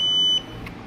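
Pine Labs POS card terminal giving a single sharp, loud electronic beep when a card is inserted, then falling to quiet room noise.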